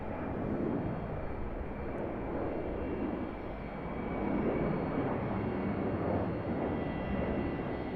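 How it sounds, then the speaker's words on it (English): An Airbus A330-200 airliner at Sydney Airport gives a steady, even jet roar that holds for several seconds at a moderate distance. There is no talking. "Airbus A330-200"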